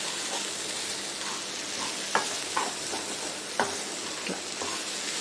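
A spoon stirs moong dal fry with ponnaganti greens in a hot pan, steady sizzling throughout with a few distinct scraping clacks of the utensil against the pan, close and alone without talk.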